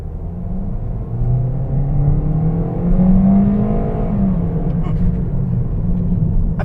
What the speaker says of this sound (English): But let's do a slight acceleration.